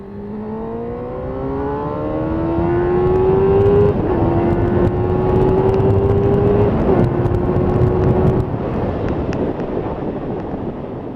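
A Suzuki GSX-R 600 sport motorcycle exhaust revs up with rising pitch, holds a high steady drone, then dips and climbs again before fading, with some wind noise.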